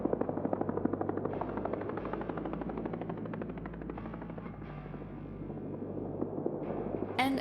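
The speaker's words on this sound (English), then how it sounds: "this is what the distant ambient helicopter sounds like in Warframe 1999." Distant ambient helicopter from the video game Warframe 1999, a steady rotor thump and hum that holds at a fairly even level throughout, with a noise sweep layered in.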